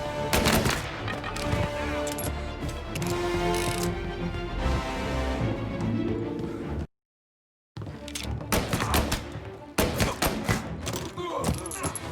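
Gunfire in the crime video game Mafia, loud bursts of shots over a busy game soundtrack, cutting to silence for about a second midway before the shooting resumes.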